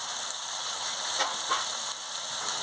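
Soybean chunks frying in spice paste in a pan, a steady loud sizzle and hiss with a few brief stirring bursts, no talking.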